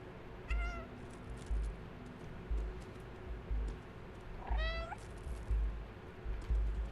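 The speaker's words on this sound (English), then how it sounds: "why can I meow?" A cat in the video game Stray meows twice, each a short, clear call, separated by a few seconds. Soft rhythmic thumps sound in the background.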